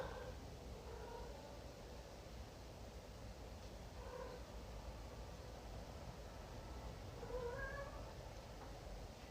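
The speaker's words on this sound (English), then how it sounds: "My cat is meowing." A cat meows a few times, faint and somewhat distant, over steady background hiss.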